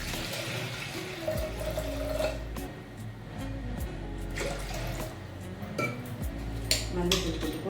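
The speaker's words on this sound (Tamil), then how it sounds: "இப்போ தேவையான தண்ணி ஊற்றணும்." Water poured into a pot of washed toor dal while making sambar, a steady splashing, running flow close by with faint clinks of the vessel throughout.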